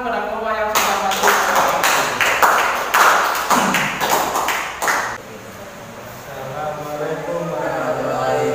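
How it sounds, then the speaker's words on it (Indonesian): Classroom audience claps for a presenting student group, a burst of hand claps lasting several seconds before fading into quieter room noise. "beri tepuk tangan kepada kelompok yang sudah masuk"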